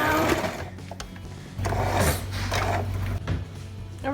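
Sewing machine back-stitching the edge of a triangle pouch handle, close and loud, with short bursts of rapid mechanical stitching broken by brief pauses.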